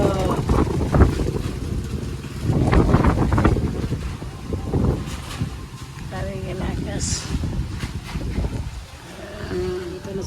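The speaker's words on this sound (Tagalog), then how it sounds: "Lakas talaga ng hangin, oy." Strong wind buffets the microphone in heavy gusts while a person talks over it outdoors.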